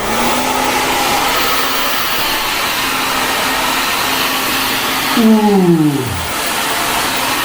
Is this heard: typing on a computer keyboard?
no